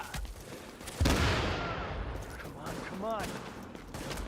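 Gunfire in The Division, a sharp burst of shots followed by a dense rolling volley of rapid reports under occasional voices.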